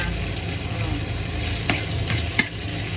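Fresh squid stir-fried with shiitake mushrooms sizzles loudly and steadily in a hot pan, with a few sharp scrapes from the spatula.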